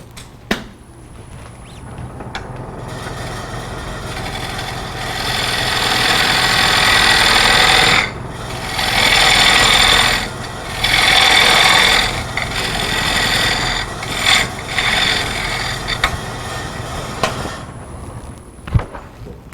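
Woodturning tool cutting the tenon of a bowl on a lathe, a steady, loud scraping whir that swells and drops in several bursts over a continuous machine hum, with no voices.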